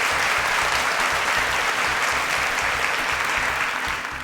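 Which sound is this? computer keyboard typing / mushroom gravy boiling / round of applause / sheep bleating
round of applause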